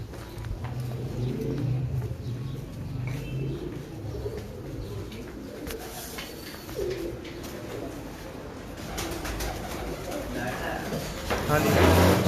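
A pigeon coos in low, soft, repeated calls, while people talk nearby over them.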